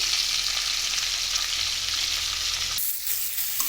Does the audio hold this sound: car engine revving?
no